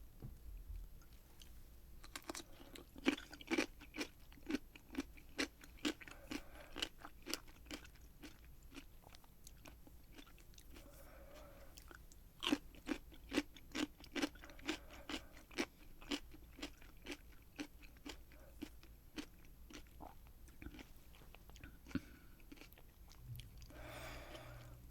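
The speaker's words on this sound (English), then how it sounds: "dill pickle is definitely crunchy" Crisp, repeated crunching as a dill pickle is bitten and chewed up close, with irregular sharp bites, some in quick clusters, over a quiet background and no talking.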